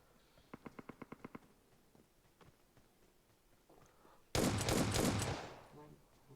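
Gunfire in a PUBG firefight on the Erangel map: a quick rhythmic burst of about eight shots, a few scattered single cracks, then a loud, dense barrage of overlapping shots lasting about a second before it fades.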